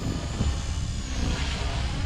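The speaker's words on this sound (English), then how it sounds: "There it is, Blade Fusion 180 after a year of flying." A Blade Fusion 180 RC helicopter flies nearby, its steady motor and rotor drone holding a constant, fairly loud hum with no talk over it.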